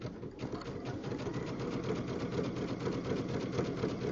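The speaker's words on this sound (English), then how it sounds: "on these machines we can use the start-stop button to run these machines, so we don't need a foot controller" A sewing machine run by its start-stop button rather than a foot pedal while piecing a jelly roll rug, with a fast, steady mechanical needle chatter at even speed, close up and moderately loud with no talk.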